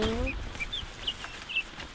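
Guinea fowl on grass in a pen give short, faint, high chirping calls scattered over a low background rumble.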